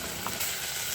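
Ground masala with coriander powder and a pinch of asafoetida fries in oil in a thin pot over a wood-fired clay stove, giving a brief steady close sizzle.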